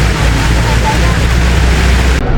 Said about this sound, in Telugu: ఇంజన్ ఆన్ అయింది రో